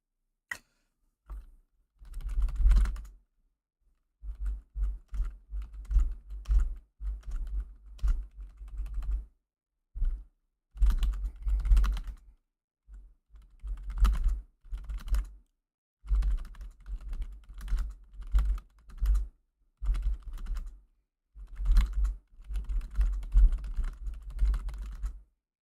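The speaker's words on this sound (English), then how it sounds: "Just typing down the names." Fingers type on a computer keyboard in irregular bursts of rapid key clicks with short pauses between runs, close and fairly quiet, with no talking.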